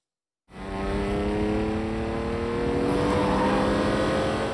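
Racing car engines from a film about Enzo Ferrari roar steadily and loudly after a sudden start, a dense, sustained mechanical drone with rising harmonics and no voices.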